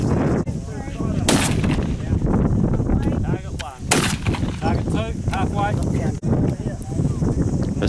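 Target rifle shots at a 600-yard range in Taranaki during a final, two sharp broadband cracks standing out over steady outdoor wind noise and background voices.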